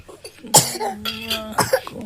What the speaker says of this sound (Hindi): खांसी आ रही है ना बस